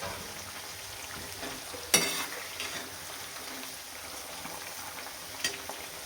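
Onions fry slowly in a pan for a spice masala, a quiet steady sizzle running the whole time, punctuated by a couple of brief louder stirring scrapes.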